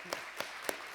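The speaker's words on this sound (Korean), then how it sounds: "우리 안수 집사님들 다시 한번 격려의 박수 부탁드립니다." A church congregation claps at a Sunday afternoon worship service, three or four distinct claps spaced evenly through a short moment, fairly close and moderate in level.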